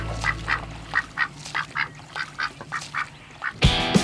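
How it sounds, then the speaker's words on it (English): A pet duck, one that cannot fly, quacks in a steady run of about a dozen clear calls close by, followed by a louder burst of noise at the end. "Now we have a pet duck because he can't fly away anywhere."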